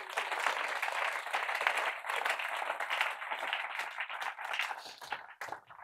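Church congregation at a prophetic consecration service applauding together, a dense, sustained wash of many hands clapping close and loud for several seconds before thinning out near the end.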